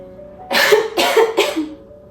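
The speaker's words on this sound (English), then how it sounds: "I probably am not going to edit out all of my coughing in this video" Three sharp, close coughs in quick succession, loud and raspy, with quiet room tone before and after.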